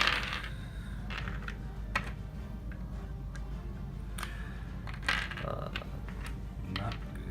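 Small dice clatter and tumble across a tabletop in a few short bursts during a Warpath wargame, scattered rattling hits over a steady low background hum.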